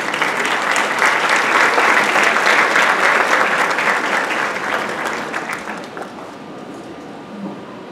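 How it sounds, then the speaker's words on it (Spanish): Audience applause at a university lecture event, loud and dense clapping from a full hall that holds steady for several seconds and then thins and fades toward the end. "Un aplauso para ella."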